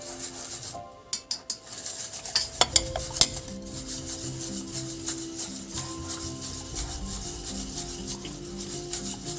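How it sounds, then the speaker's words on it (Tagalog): Kutsinta batter of all-purpose and cassava flour being stirred in a bowl, a soft repeated rubbing and scraping with a few sharper knocks early on, close and fairly quiet. "Haluin natin mabuti hanggang wala siyang lumps."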